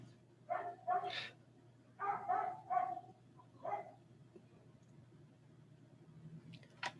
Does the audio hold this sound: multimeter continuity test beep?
no